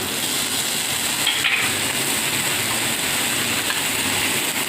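Mutton with ginger paste, cumin paste and garlic paste sizzles and fries steadily in a pan as it is stir-fried, a loud continuous close-up hiss with no talking.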